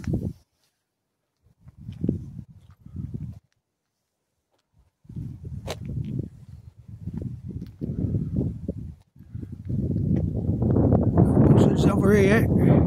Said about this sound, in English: Sun's coming through, wind's blowing this way.